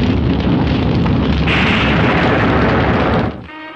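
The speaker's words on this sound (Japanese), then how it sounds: "爆発するぞ。" A TV-show effect of a tanker exploding and burning at sea: a loud, sustained roaring blast that rumbles on for about three seconds, then drops abruptly to a quieter tail.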